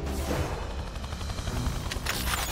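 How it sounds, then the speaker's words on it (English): A loud, dense cartoon explosion from a Transformers Rescue Bots Academy episode, a sustained rumbling blast with crackling bursts and a sharp crack near the end, heard alone with no voices. "I heard the explosion."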